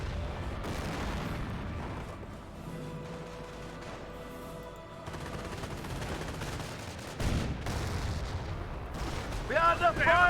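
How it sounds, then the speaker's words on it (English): Gunfire and artillery rumble through a Company of Heroes battle, with sustained heavy booms and rattling shots layered densely, a loud impact near the middle, and talk running underneath. "We are under fire."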